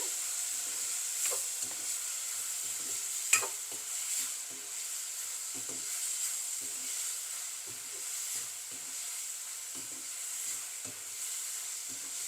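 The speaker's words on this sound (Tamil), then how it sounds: "தக்காளி வெங்காயம் நல்லா வதங்கணும் வதங்கி பேஸ்ட் மாதிரி வரணும்" Tomato and onion sauté in a pan with a soft, steady sizzle and occasional light stirring scrapes, one sharper clink standing out, no voices.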